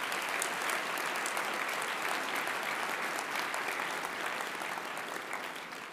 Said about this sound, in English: yeah, let's have a round of applause.